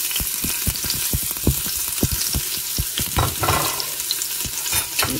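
Onion fries in hot oil in a pot on the stove, a steady loud sizzle with crackling pops and stirring scrapes throughout.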